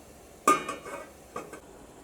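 Metal lid set onto a pot of water on the stove, a sharp close clank followed by a softer rattling settle and a second lighter clink about a second later.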